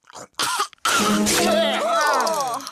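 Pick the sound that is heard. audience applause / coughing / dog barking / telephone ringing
coughing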